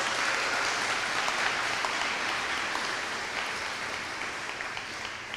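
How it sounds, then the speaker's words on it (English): A graduation ceremony crowd claps in a dense, sustained round of applause that holds steady and slowly thins toward the end, no voices over it. "So let's just give them another round of applause."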